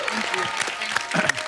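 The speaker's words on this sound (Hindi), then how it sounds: "एक बार प्रियंका चोपड़ा और रोहित के लिए जोरदार तालियां हो जाए।" A studio audience at a Hindi television comedy show claps for guests. The applause is fairly soft and continuous, with voices talking over it.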